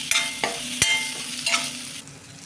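A fresh coconut paste sizzles in hot oil for a brinjal curry, with a few sharp scraping stirs of a spoon in the pan and no voices.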